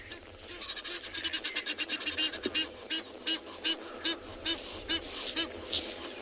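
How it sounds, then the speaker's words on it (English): Egyptian geese honk repeatedly at a watering hole in South African bush, a rapid series of harsh, nasal calls in bursts and pauses, moderately close over a low ambient hum. "from one noisy bird, those Egyptian geese"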